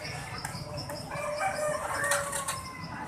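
Chickens for sale at a busy morning market stall in Soc Trang, Vietnam, cluck and flap their wings amid steady market bustle in the background.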